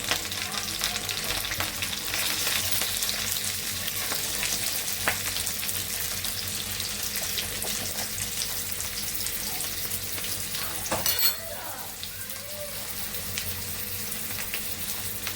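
Onions fry in a pan, a steady close sizzle with scattered scraping and clatter that continues throughout, a sharp knock around the eleven-second mark, and no speech.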